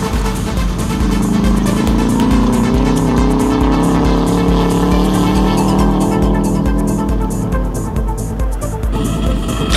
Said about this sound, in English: Another new kid on the block was Randa Bully, going flat out in his new Subaru Impreza